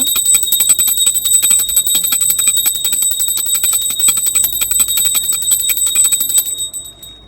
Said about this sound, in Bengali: আরতি হয়ে গেছে আর ঘন্টাটাও বাজিয়ে দিল